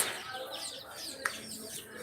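Chickens cluck and chirp softly in a farm store, with brief wing flaps and a faint sharp click partway through, set against indoor ambient noise.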